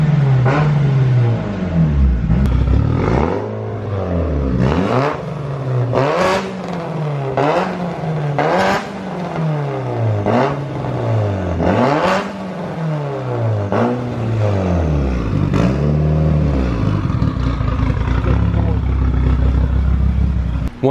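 Freshly built Mitsubishi Evo 5 engine running after its first start, with a balance shaft delete, idling and repeatedly revving up and dropping back in loud, close blips with a sweeping whine.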